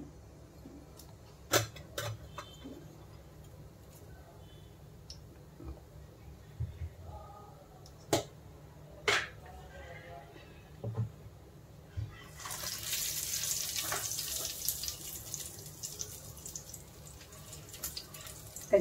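Cumin seeds go into hot oil in a home kitchen: faint scattered clicks and taps at first, then a soft, steady sizzling hiss rises and continues at low volume.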